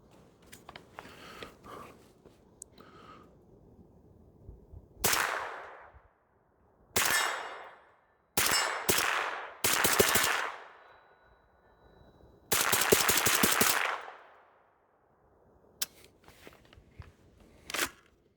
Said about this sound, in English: So let's put some rounds down here and see how this thing goes.